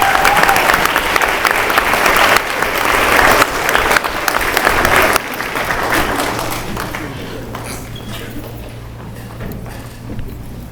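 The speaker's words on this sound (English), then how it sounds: "Y'all give Miss Holmes a big round of applause." Audience applause at a school board meeting, loud dense clapping from a room full of people that drops in intensity midway and tapers off, with a low hum underneath.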